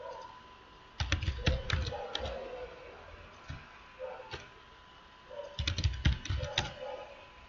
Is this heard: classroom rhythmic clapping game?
no